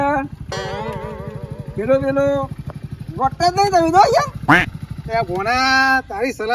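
A motorcycle engine idles with a rapid, steady putter close by while people talk over it in short bursts.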